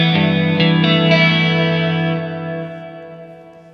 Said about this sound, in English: if I was to knock that modulation off and put on the MXR Chorus